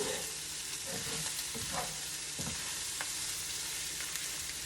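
Sausage mixture fries gently over very low heat while a utensil stirs and scrapes the pan, a soft constant sizzle with several clicking strokes, close and fairly quiet.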